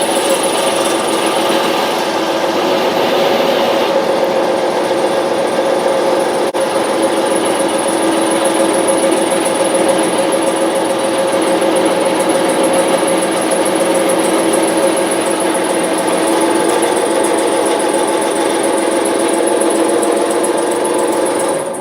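A metal lathe taking a turning cut on the outer diameter of a part for a 1900s drill press being rebuilt, a steady mechanical whine and hum that runs unbroken and fairly loud throughout, with no talking.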